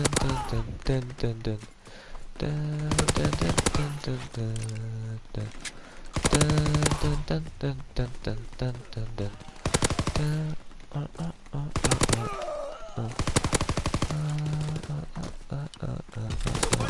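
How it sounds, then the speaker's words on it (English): Machine-gun fire from a strafing run in a Star Wars video game about a droid attack on the Wookiees, heard as loud repeated bursts of rapid shots, with voices talking over much of it. "Call for a strafing run."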